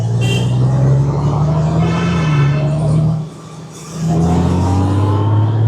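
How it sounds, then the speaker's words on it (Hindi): A heavy 1800cc Honda Goldwing motorcycle engine drones with a deep steady rumble, rising in revs, briefly dropping off, then surging back up loud and close. "ये जो आवाज़ आती है ना इसकी, और जब 1800 सीसी का इंजन एकदम रेव करता है"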